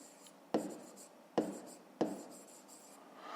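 Pen scratching on paper while someone writes out a school maths exercise by hand, three short bursts of writing strokes, close and fairly quiet, with no talk.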